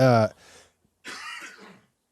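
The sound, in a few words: hard cough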